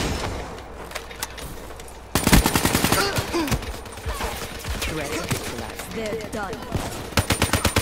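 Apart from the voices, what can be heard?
AK-47 gunfire in Call of Duty Black Ops III video game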